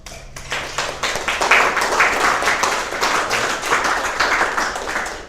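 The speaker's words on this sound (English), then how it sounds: "please give a round of applause" An audience at a conference talk about stealing a botnet applauds together, a dense, steady patter of many hands clapping at moderate loudness for several seconds with no speech over it.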